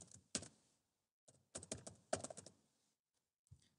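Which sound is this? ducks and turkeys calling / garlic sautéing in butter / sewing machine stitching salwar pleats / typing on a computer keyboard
typing on a computer keyboard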